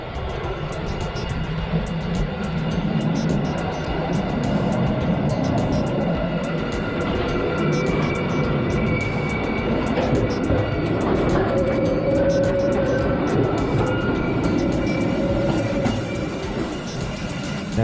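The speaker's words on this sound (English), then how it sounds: "This is a train in Switzerland." A train in Switzerland rolls loudly through a gauge-changing section of track, with a steady heavy rumble and clatter throughout and intermittent metallic squeals and whines rising above it.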